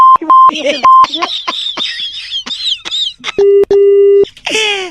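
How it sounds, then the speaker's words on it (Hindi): Loud electronic beeps of a phone call disconnecting on a radio show, short tones first and then longer steady ones, mixed with squeaky processed voice sounds and audio effects. "चलो, फोन कट गया।"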